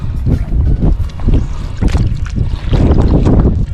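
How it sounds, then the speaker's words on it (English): Strong wind gusts buffet the microphone on a foggy South Padre Island coast while fishing, a loud rumbling roar that surges and eases in uneven waves. "Wind picked up pretty good."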